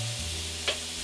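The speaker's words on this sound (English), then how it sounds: "I'm going to just give the mushroom a little flip." Mushrooms flipped in a hot pan give a steady frying sizzle with a quick soft scrape or flip near the middle of the brief moment, with no voices.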